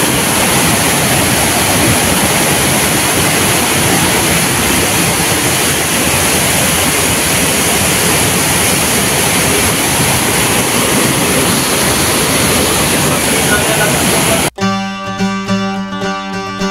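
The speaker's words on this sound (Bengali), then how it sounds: "আর এপার থেকে প্রচুর জল যাচ্ছে" A large volume of water rushes and roars at Panchalingeshwar temple, a loud, dense, unbroken flow close by for most of the stretch before cutting away abruptly near the end.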